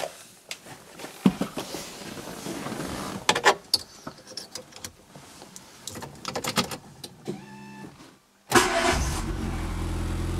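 A car with a flat battery is started with a portable jump booster. Clicks and short whirring bursts come before the engine turns over loudly near the end and settles into a close, steady idle.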